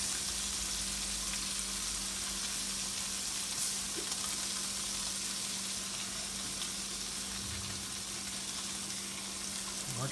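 Morel mushrooms sizzle in a skillet over moderate heat, a dense, even, continuous frying hiss up close with a faint steady hum beneath and no talk.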